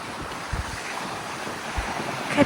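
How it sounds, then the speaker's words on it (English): High wind blows at a campsite with tents, a steady rushing roar with low buffeting gusts against the microphone, swelling near the end. "Because one good wind from the right direction"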